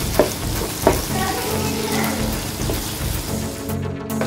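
Steady sizzling of onions frying in a hot pan until light brown, with a couple of sharp stirring clicks near the start, continuous and close.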